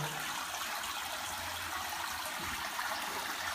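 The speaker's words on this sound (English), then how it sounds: "listen to the water that is running" Water runs steadily in a well in Israel, a continuous, even rushing and trickling that holds at the same level from start to finish with no voices.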